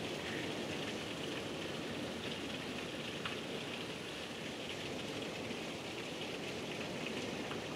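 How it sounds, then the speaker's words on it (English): Heavy rain pours steadily during a morning tornado warning, a dense even hiss of drops on surfaces that holds constant and moderately loud throughout, with no voices. "It's raining kind of hard."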